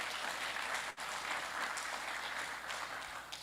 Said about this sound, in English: I'll request that we do a round of applause for the questions they have answered, the presentations.